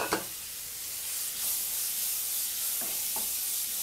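Finely chopped onions go into a hot pan of oil, giving a steady sizzle and hiss with a brief clatter at the start and a couple of light stirring scrapes later.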